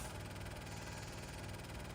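Tamiya Grand Hauler RC truck's onboard sound unit plays a steady, low engine hum for two seconds, a quiet continuous idling drone with even vibration and no clear cutoff.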